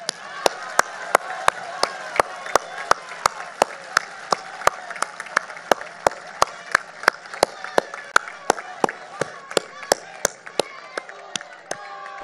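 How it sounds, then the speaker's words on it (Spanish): A crowd at a port works inauguration in Guaymas, Sonora, claps in a steady rhythmic beat, the sharp regular claps ringing over a murmur of voices throughout. "con el mayor de los aplausos"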